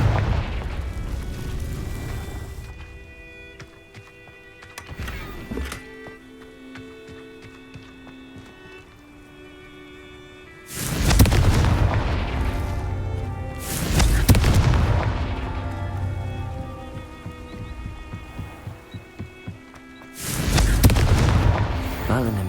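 Explosions from a Confringo spell in a video game, several deep booming blasts with long rumbling tails spread across the span, loud and near, over a soft tonal game background.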